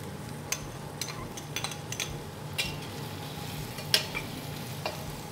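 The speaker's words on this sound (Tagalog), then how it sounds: "And then let's put the onions. Just the usual gisa." Onions and tomatoes sautéing in a pan for ginisang ampalaya, with a low steady sizzle broken by repeated sharp scrapes and clicks of a utensil stirring against the pan, no voices.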